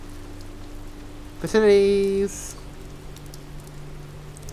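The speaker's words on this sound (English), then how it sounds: "Was it raining a minute ago? No, it's only just started, right?" Rain begins falling in the video game Oxenfree, a soft, steady hiss that runs the whole time while a single word is spoken briefly over it.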